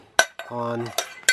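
Dishes and cutlery clink as they are laid down: a few sharp, close metallic taps and clatters, with a brief ringing tone sustained in the middle.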